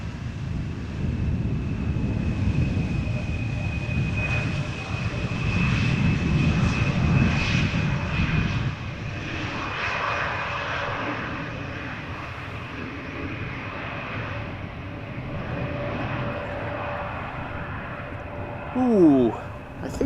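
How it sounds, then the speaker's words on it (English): An Embraer jet airliner arrives at Amsterdam Schiphol Airport, a distant engine roar that swells and fades over several seconds with wind rumble, as someone talks now and then. "another one of those rare Embraers that you never see here at Schiphol Airport"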